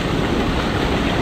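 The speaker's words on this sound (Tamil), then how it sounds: "ஸோ இந்த இடம் பாருங்கள், தண்ணி எல்லாமே அவ்வளோ ஃபோர்ஸில் வருது." Dense, steady roar of water pouring with force at Aruvikkarai waterfall in Kanyakumari, a loud, unbroken broadband rush with no pauses and no voices.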